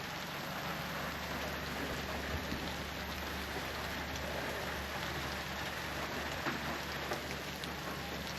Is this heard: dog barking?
no